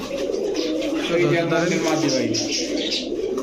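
Female Almond pigeon cooing up close, a couple of soft, low, warbling coos under a voice talking.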